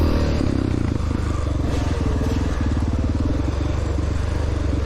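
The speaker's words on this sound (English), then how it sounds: "And I just like that I'm riding a 30-year-old bike out there." A 1993 Honda XR600R dirt bike runs during an amateur cross-country race, a loud, close, steady single-cylinder engine drone with a rapid pulsing beat and rattling mechanical clatter throughout.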